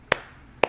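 Two separate sharp hand claps, about half a second apart, fairly close and faint, with near silence between them during a family gathering after a meal blessing.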